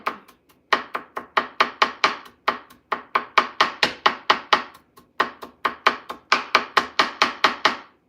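Garlic cloves being chopped with a knife on a cutting board in a home kitchen: a loud, close run of rapid, even knife strikes in three bursts separated by brief pauses, with no talking.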